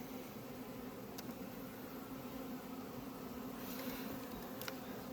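Honeybees drone steadily around an open hive during a quick inspection of colonies, a continuous fairly faint buzz with a couple of brief sharper sounds.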